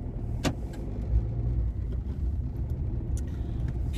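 A car rolls along on a short trip, heard from inside as a steady low road rumble and engine drone with a few faint clicks.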